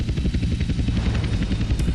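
A helicopter in GTA San Andreas, its rotor beating in a loud, steady rapid chop with a droning engine underneath, close and continuous without talk.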